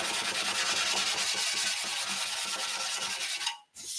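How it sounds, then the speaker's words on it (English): Rhythmic back-and-forth rasping as a sanding block is rubbed lightly over a surface, steady close strokes with no talking. "while I'm doing this sanding with this block very lightly"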